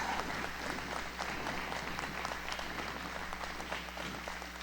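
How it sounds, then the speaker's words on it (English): An audience claps steadily for Presidential Award winners at an elementary school promotion ceremony, the applause even and fairly distant, with a low steady hum underneath. "let's give our Presidential Award winners a big round of applause"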